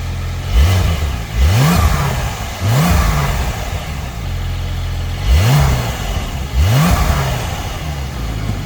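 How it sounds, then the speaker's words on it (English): A car's exhaust booms through five sharp throttle blips, each rev rising quickly and falling back to a steady idle between them, loud and close, with no voices. "But let's see how the exhaust sounds."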